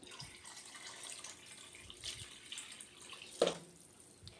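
Water pours softly into a cooking pot of goat kabsa, a faint splashing trickle with a brief louder gush near the end, no talking.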